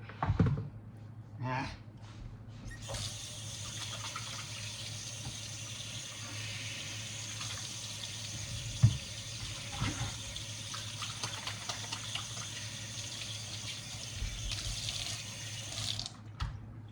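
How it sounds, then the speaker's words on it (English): A kitchen sink tap runs steadily for a long stretch as hands are washed beneath it, a constant close hiss of water with brief clatters, surging slightly louder near the end before cutting off. "I think I washed my hands for no reason. Now I gotta do it again."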